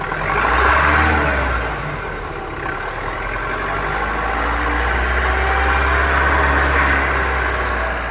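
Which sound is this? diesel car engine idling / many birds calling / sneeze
diesel car engine idling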